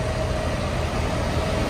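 Several tractors idle at a tractor run in a Saddleworth car park, a steady, fairly loud low engine rumble with a faint constant whine and no voices.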